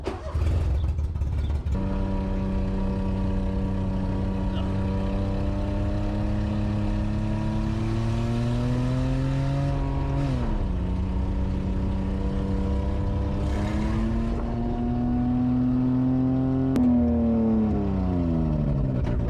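A mini truck driving along, its engine droning steadily up close with slow rises and dips in pitch as it speeds up and eases off, with no talk.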